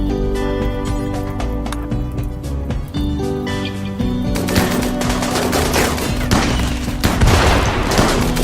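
Incendiary launcher fire in a RimWorld raid, heard as a dense, continuous barrage of rapid bursts and booms that builds louder partway through, with no talk over it.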